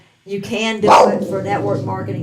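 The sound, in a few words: dog barking at a car in the driveway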